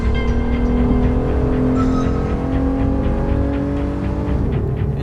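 Twin-turbo V6 engine of a 2014 Porsche Panamera 4S, a loud steady drone with layered harmonic tones that slowly dip as the revs settle, heard alone and close.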